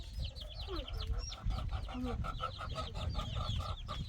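Chickens cluck repeatedly in a farmyard, a hen's steady chattering clucks mixed with other fowl calls and a rooster's crow, close and continuous over a low background rumble.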